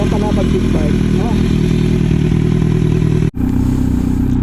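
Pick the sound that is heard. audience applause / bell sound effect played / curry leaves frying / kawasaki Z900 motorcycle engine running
kawasaki Z900 motorcycle engine running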